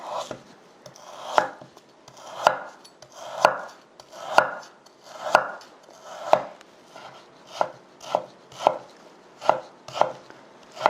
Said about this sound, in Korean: 소고기를 썰어 보겠습니다. 이거는 우둔살이고요. 썰어서 이제 오이하고 같이 볶을 거예요. 채로 썰 겁니다.